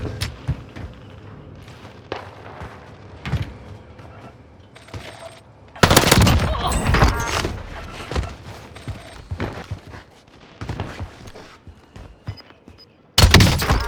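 Gunfire erupts during a video game match, with bursts of rapid automatic fire and scattered single shots and thumps, close and loud at times, sometimes sparser, and carrying on for the whole stretch.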